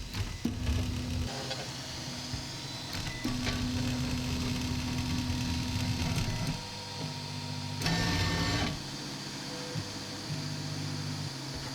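A Hictop Prusa i3 3D printer auto-homes its axes, stepper motors whining in steady sustained tones that shift pitch as each axis moves, with short pauses and mechanical clicks between moves, close and moderately loud.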